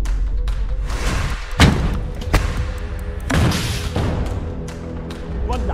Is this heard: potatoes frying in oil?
no